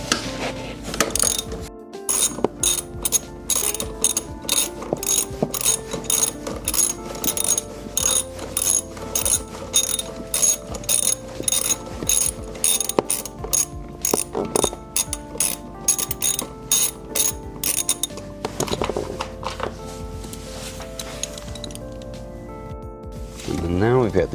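A ratchet backs out bolts beneath the passenger seat of a Lexus LX, with long runs of rapid, close, crisp clicking broken by short pauses.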